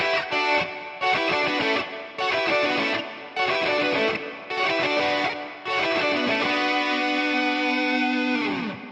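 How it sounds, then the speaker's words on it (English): Distorted electric guitar plays a metal-style version of a song's string line: loud, close bursts of chugging notes in short repeated phrases with brief gaps, ending in a long sustained chord that fades out. "the strings are playing this thing, and I've just copied that on the guitar"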